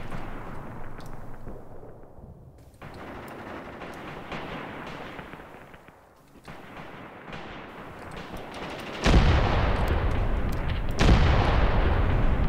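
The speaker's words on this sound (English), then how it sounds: "Call another salvo with immediate action fuses, so that the shells detonate as soon as they touch the ground" An artillery salvo with immediate-action fuses in the Graviteam Tactics war game: a dense, rolling barrage of booms and shell detonations, growing louder and heavier toward the end.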